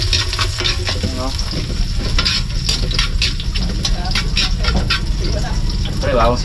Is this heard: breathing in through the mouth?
no